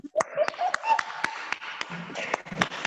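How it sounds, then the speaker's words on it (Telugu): A class of students claps in a scattered, uneven burst of sharp slaps and taps, fairly close, with voices talking underneath. "Clap for all."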